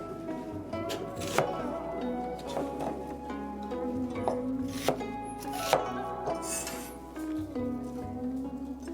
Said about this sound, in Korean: 자, 양파를 잘라주시고